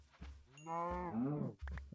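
Cows mooing in the video game Minecraft: one drawn-out, clear moo, close and alone, with short soft thumps before and after.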